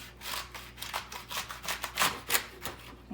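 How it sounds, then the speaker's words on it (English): A knife cuts through the base of a celery stalk about two inches from the bottom, making a quick series of crisp, fibrous crunching snaps, close and fairly quiet, with no talking. "we're just gonna cut it off"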